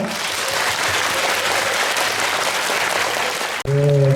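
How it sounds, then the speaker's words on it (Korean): Loud, steady applause from the audience at a Korean military-band memorial concert at the national cemetery, filling the hall for several seconds before breaking off abruptly as a sustained accordion-like tone begins. "박수 부탁드립니다"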